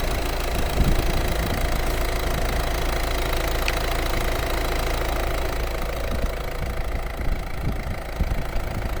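A 2014 Peugeot 308 with a 1.6 HDI diesel and six-speed manual idles steadily and close, a constant diesel clatter with even rumble throughout and no talking.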